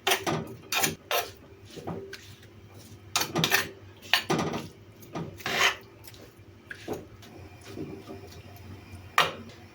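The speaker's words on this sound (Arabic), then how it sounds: "انا نبقى نحرك فيه ونشحرو مزيان" Chicken is stirred and seared in a tagine pot, with repeated scraping and rasping strokes of a utensil against the pot that come in irregular bursts. Quieter sizzling gaps sit between the strokes.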